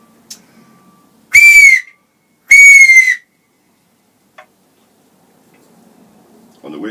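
A handmade whistle gives two loud, shrill blasts in quick succession, each under a second, in an otherwise quiet space, followed by faint handling noise and a brief voice at the end.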